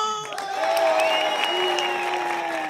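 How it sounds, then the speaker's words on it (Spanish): A studio audience applauds a comedian on a TV interview show, steady clapping with a few raised voices and cheers blended in throughout. "¡Aplauso para Platanito!"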